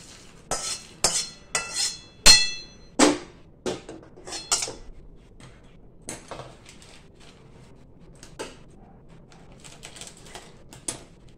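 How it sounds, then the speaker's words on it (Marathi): Dry mace (javitri) roasting in a pan, heard as a quick run of sharp clinks and scrapes as the spatula hits the metal, then sparser taps and light rustles over a quiet background. "आता हे जायपत्री आपण भाजतोय"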